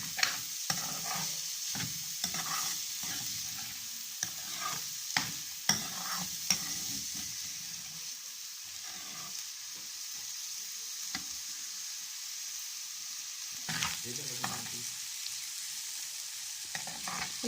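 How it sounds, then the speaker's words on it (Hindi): Finely chopped onion fries with potatoes in a pan, a soft continuous sizzle broken by frequent scraping and stirring clatters of a utensil, close and fairly quiet. "हल्के से इसमें प्याज फ्राई हो गई।"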